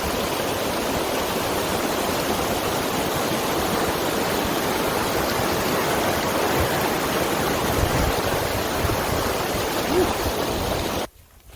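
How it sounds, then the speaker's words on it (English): Raging mountain creek water at Leroy Creek in the Rocky Mountains, a dense, loud, continuous roar of rushing whitewater close by, steady throughout before ending suddenly. "I've got to cross Leroy Creek here. It's actually raging pretty good"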